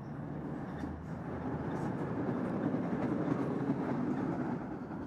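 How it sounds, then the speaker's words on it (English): A train rumbles past at a distance beside an Avon salmon fishing pool, a steady low roar and rattle that swells slightly toward the middle and holds throughout, with no talk over it. "You can probably hear the train going over there."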